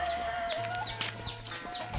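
Chickens cluck in a backyard coop in a hillside village, with repeated short clucks and calls at close range against a steady rural background.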